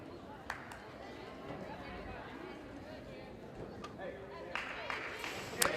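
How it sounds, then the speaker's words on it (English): Crowd chatter fills a gym at a girls high school basketball game, a steady murmur of many voices with occasional claps, footsteps and squeaks, while an announcer speaks over it. "Not a bad crowd on hand for Friday"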